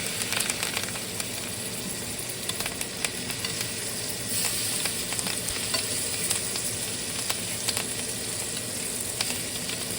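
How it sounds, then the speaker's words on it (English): A steak sizzles steadily in a hot pan while melted butter is spooned over it, a loud continuous frying hiss with scattered spits and light clicks of the spoon, and no talking. "Baste and baste and baste with butter."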